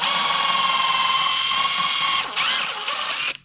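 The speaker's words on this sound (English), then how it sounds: "I'm just going to drill a quick pilot hole." A power drill whines steadily while drilling a shallow pilot hole, cuts out for a moment, then spins up again briefly before stopping.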